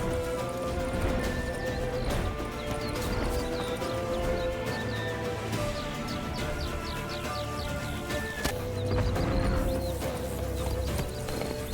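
Roach the horse gallops in The Witcher 3, a steady clip-clop of hooves with an occasional whinny, layered over dense game music and ambient effects, loud and continuous throughout.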